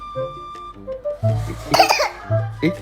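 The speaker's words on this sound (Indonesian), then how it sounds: "Oh batuk." A child gives a short burst of coughs close by, mixed with brief vocal sounds and a bit of throat noise.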